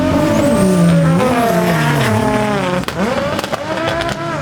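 Drift cars at a large Japanese car show, engines revving hard with pitch sweeping up and down, tires squealing and screeching as they slide, loud and close, with sharp bangs near the end.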